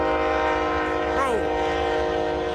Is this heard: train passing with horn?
yes